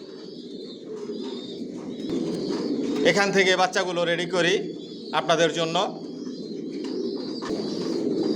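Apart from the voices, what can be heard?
pigeons cooing in a racing pigeon loft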